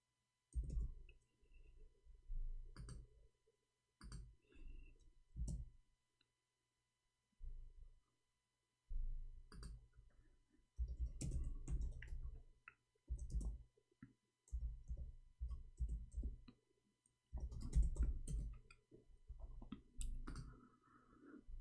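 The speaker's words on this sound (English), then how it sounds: "I'm typing in Arabic all this time" Someone types on a computer keyboard in Arabic, quiet clicks coming in short bursts separated by brief pauses, close by and faint.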